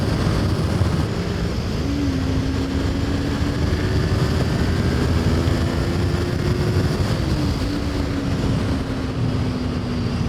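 A Kawasaki Ninja 250 motorcycle cruising on a highway in cold winter weather, with a steady engine hum buried under loud, constant wind rush, no talking.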